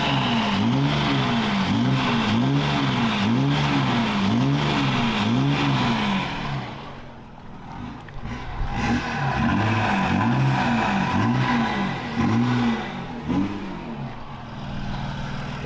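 A Mercedes G-Wagen with a custom exhaust revs repeatedly in rhythmic rising and falling bursts, loud and close, easing briefly before another run of revs.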